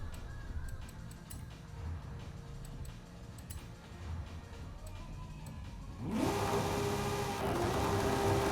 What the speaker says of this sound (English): This one is slightly muffled, just by a little bit, but that's the exact same engine noise.